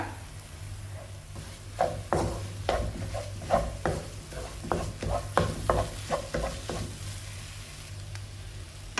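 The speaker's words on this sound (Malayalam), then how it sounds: "നല്ല രീതിയിൽ സ്ക്രാമ്പിൾ ചെയ്തെടുക്കുക" Eggs are scrambled and stirred in a hot pan for egg tawa pulao, with steady sizzling under rhythmic scraping strokes of the spatula, close and fairly loud, and no voices.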